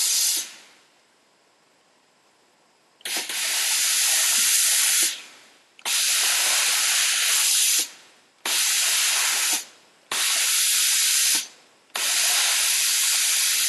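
A Laurastar steam iron hisses loudly in bursts as it steams a shirt hanging on a hanger, several strong jets of a few seconds each with short quiet gaps between them, close and without talk.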